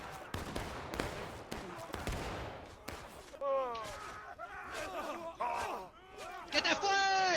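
Scattered musket volleys crack and pop in a Civil War battle video game, sharp shots from some distance for the first few seconds, then voices talk over fainter firing.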